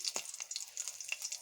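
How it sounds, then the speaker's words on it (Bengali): Taro stolons frying in a pan with whole spices such as cardamom and cinnamon give a quiet, steady sizzle with a few brief crackles and stirring scrapes, close by and with no voices. "এখন একটু ভালোভাবে কচুরলতিগুলোকে ভেজে নেব।"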